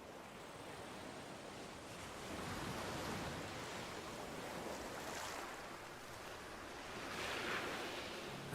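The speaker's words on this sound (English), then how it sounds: "The southern shores of the great inland sea that splits North America." Waves breaking on the southern shore of a great inland sea, a steady washing surf with gentle swells and faint wind, heard alone without voices.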